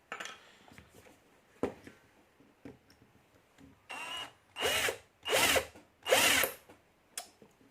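A power drill bites into an Abus padlock in short bursts, starting with brief clicking spurts and then several longer, louder whines, close up with no talking.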